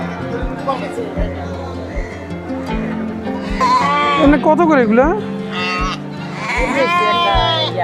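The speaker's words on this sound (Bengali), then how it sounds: "এই দেখতে পাচ্ছেন বন্ধুরা এখানে অনেক ছাগল" Several goats bleat in wavering cries at a riverside Qurbani livestock market, over a busy market murmur, with people talking nearby and occasional soft thumps.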